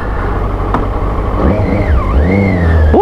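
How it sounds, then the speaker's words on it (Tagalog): A stock SRK600 motorcycle exhaust revs loudly, its pitch climbing, dipping and climbing again over a steady low engine rumble. "Naka-stack pa lang kasi yung exhaust niya, pero tunog niya is napaka-angas na."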